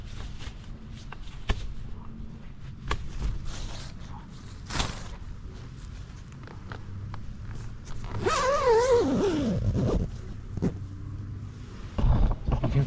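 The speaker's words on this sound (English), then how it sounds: "You can see there, the door zipped down nicely." A tent door zipper on a Fjallraven Abisko Lite 2 tent is pulled down in one long zip outdoors on a sunny day, following scattered rustling and light handling noises; no speech.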